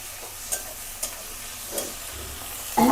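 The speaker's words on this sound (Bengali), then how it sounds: "প্রথমে সিম আর বেগুনটারে তেল দিয়ে একটু লবণ দিয়ে ফ্রাই করে নেব" Flat beans and eggplant frying in oil with a little salt make a faint, steady sizzle, broken by a few soft stirring knocks and a louder clatter at the very end.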